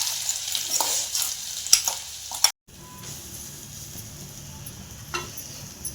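Chili paste and cumin sautéing in a pan for a traditional Maharashtrian dish, a steady close sizzle with a few sharper spatula scrapes, cut by a brief silent gap midway before the frying resumes.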